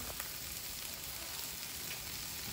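Shrimp frying in a pan with onions gives a steady, even sizzle that continues without pause, close and moderately quiet.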